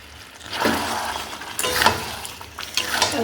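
Nut paste being stirred into a Kashmiri yogurt chicken curry in a pan over a low flame: repeated scraping, swishing strokes that rise and fall, close and moderately loud, with no talking.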